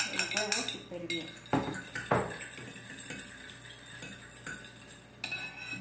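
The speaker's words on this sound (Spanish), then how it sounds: "Aquí voy a batir el huevo súper bien." An egg being beaten in a bowl for hotcake batter, with quick clinking and scraping of a utensil against the bowl, fairly close and steady, with faint kitchen background noise.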